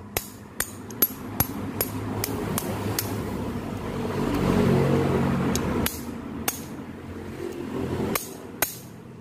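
Sharp metallic hammer strikes, about a dozen, drive a front gear onto a Honda Revo Absolute motorcycle using a socket wrench, at an uneven pace over a steady low mechanical hum, some close together and others spaced apart.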